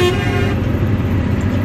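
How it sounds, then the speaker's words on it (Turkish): A truck's musical horn in Arab style sounds loud and close as one sustained tonal blast that then changes to a lower, rougher tone, over traffic and engine noise. "sizin için de bir korna show yapıyorum şimdi"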